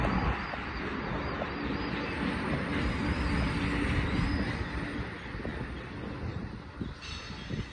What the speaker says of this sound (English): Beautiful train.